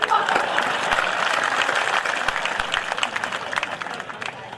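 Audience clapping at a Hindi comic poetry gathering rises briefly and then thins out, a dense patter of hands that fades over a few seconds, with a voice faintly present.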